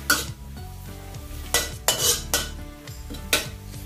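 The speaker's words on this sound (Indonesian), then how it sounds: "Kita tumis jahe sama bawang putihnya dulu ya teman-teman semua." Ginger and garlic stir-fry in a pan, with a spatula clanking and scraping against the metal in irregular knocks over a faint sizzle and no talking.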